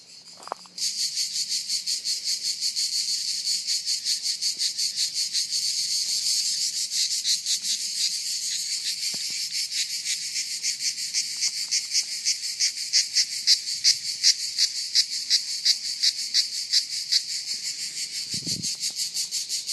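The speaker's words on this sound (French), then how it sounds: "j'entends au loin les cigales qui se parlent" Cicadas chirp steadily in the distance, a dense pulsing buzz that holds for the whole stretch, with a faint low rustle or two and no voices.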